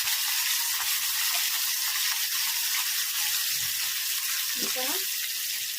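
Green chillies roast on a hot griddle, giving a continuous bright sizzle and hiss at moderate loudness, with a brief voice near the end.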